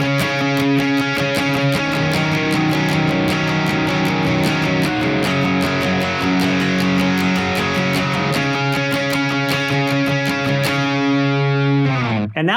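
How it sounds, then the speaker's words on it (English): Distorted electric guitar plays the slow riff from the song, loud and close with a driving, steady picking rhythm, ending in an abrupt stop. "riff, slow, sounds like this"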